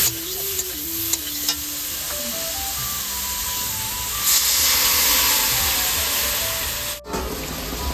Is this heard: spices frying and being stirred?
yes